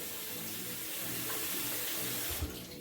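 Dandelion flowers rinsed under running tap water, a steady close rush of flowing water filling the sink with a brief splashy clatter near the end.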